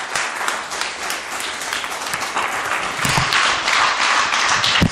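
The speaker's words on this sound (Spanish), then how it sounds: "Denle un aplauso a Cristo." Congregation applauding during a church worship service, a dense, steady wash of clapping that swells louder toward the end, with no voices over it.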